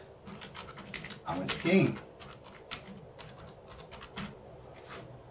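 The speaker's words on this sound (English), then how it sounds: "then I can simply type that in" Keys clatter on a computer keyboard in a run of quick, light clicks close by, with a short burst of speech partway through.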